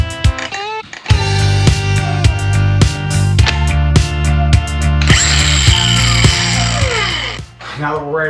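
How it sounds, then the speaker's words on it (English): An angle grinder fitted with a grinding disc runs loud and steady against a boat hull, a harsh whining drone with shifting pitch as the disc bites, close up and continuous. "Then I gotta use my grinder."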